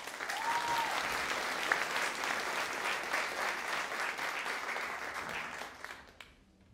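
An audience applauds at the end-of-year school concert of Bassara Music School, giving dense, steady clapping that holds for several seconds, then thins and fades out near the end.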